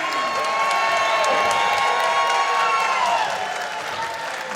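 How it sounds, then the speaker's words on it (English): Raucous crowd at the Chase arena during an NWA wrestling event, cheering, applauding and whooping in a loud, steady roar that fills the whole stretch and eases slightly near the end. "you can hear this raucous crowd at the Chase"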